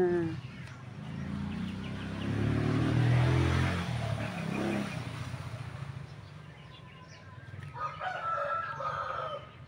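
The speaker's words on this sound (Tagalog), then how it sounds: "Mga manok ang maririnig mo dito." Roosters crow in a rural province yard, one long crow loud and near. Other chickens cluck faintly, and a vehicle passes in the background.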